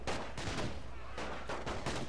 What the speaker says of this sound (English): Firing squad!